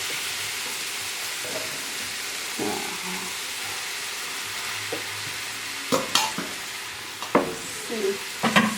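Rice poured into a pan of frying vegetables and stirred, with a soft continuous sizzle under scattered scraping stirs and louder clattering strokes near the end.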